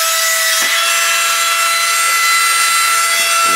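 The suction fan of a JJX-TECH RC wall climber car runs with a loud, steady, high-pitched whine close by, broken by a faint click.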